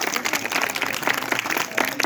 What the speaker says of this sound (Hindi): ठीक है बहुत जोरदार ताली